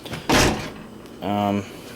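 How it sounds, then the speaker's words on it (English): A worn dishwasher door opens with a loud, close burst of broadband noise, followed after a pause by a brief tonal squeal. "let's prop the door open and let all the steam out"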